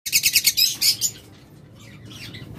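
Caged lovebirds, budgerigars and cockatiels chirp in a quick, bright burst of overlapping calls for about a second, then fall to sparse faint twitters over low room noise.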